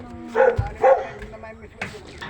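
A dog gives a few short barks close by, with a person speaking over and between them.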